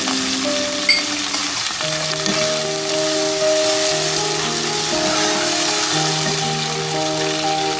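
Mutton with chopped tomato and sliced green chillies sizzles steadily in a pan for Kashmiri-style yakhni pulao, a close, continuous frying hiss with light stirring and soft tonal music underneath.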